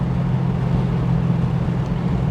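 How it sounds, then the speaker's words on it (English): The 7.0-litre big-bore V8 of a 1989 Aston Martin V8 Vantage Volante X-Pack runs warm at a steady speed, giving a loud, deep, constant rumble with no talk over it. "Awesome V8 Vantage Volante with 7-liter engine"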